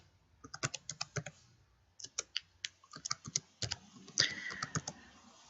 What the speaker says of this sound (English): what I'm going to do is now type in Microsoft Windows